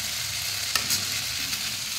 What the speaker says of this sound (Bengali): তেল গরম হয়ে গেছে, আমি গোটা জিরে ফোড়ন দিয়ে দিয়েছি।